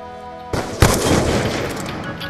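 Gunfire in the Black Ops 2 video game during a 1v1 match: a sharp loud shot cracks out, followed by a dense burst of rapid firing and rumbling that fades over a couple of seconds.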